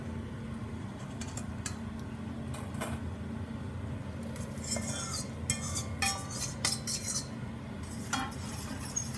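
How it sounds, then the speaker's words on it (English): Noodles are tossed with an egg mixture in a pan, with a steady stream of metallic clinks and scrapes from utensils against the pan above a constant low hum from a kitchen fan. "So now we're just going to toss our noodles"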